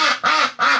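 Three loud, close duck quacks in steady succession, each a harsh nasal burst with brief gaps, coming from a backyard flock just outside a window.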